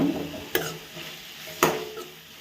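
Tomatoes fry in a pan for an Andhra-style red chutney. There is a close continuous sizzle, and two sharp scraping strokes of a spoon against the pan cut through it.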